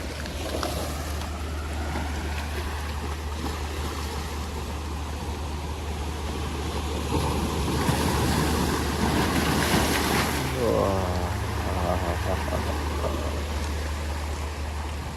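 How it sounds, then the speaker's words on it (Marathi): Sea waves surging and washing along the shore at Narvan beach near Guhaghar, Ratnagiri, a steady broadband roar with wind buffeting the microphone, swelling louder midway as the water rushes closer. "समुद्राचा आवाज ऐकायचा तर आम्ही आलोय ते त्याच्यासारखं बेस्ट ठिकाण कुठेच नाही तर तुम्हाला मी ऐकवतो"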